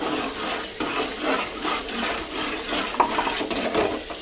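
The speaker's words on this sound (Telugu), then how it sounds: "అట్లా మసిలినప్పుడు ఇట్లా మంచిగా కలుపుకోవాలి ఇట్లా కలుపుకుంటే గడ్డ లేకుండా అవుతుంది" A boiling mixture is stirred steadily in a pot to keep lumps from forming, giving close, continuous bubbling and scraping swishes with no voices.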